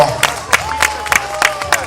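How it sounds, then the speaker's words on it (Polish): A crowd applauds the knightly brotherhoods at an outdoor reenactment of the 1335 Battle of Ząbkowice, a short burst of scattered, separate claps rising out of the open air while a voice carries over them. "Gorące brawa!"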